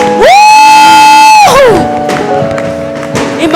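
Church congregation cheering for God during a sermon, opening with a loud, sustained whoop that gives way to a noisy crowd of shouts and scattered clapping.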